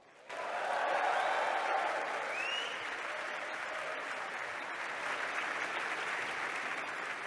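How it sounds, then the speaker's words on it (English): Large university ceremony audience claps and cheers steadily to welcome the Vice-Chancellor and President, a dense, loud wash of applause rising quickly and holding for several seconds. "So let's practice the whooping and the cheering to welcome the Vice-Chancellor and President of the University of Warwick, Professor Stuart Croft."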